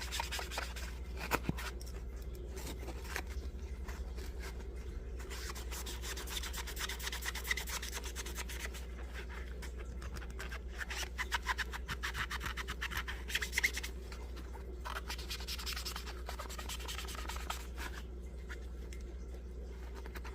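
An old fishing lure's painted finish is rubbed clean with a soft, continuous scrubbing and scratching sound, close and faint over a low steady hum, with scattered small clicks and no speech.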